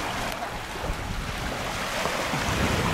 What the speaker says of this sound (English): Winds are blowing a little bit today